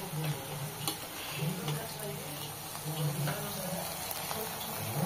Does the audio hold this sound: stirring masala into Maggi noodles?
yes